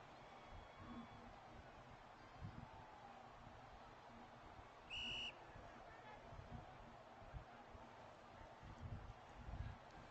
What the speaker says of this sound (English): So the whistle's blown here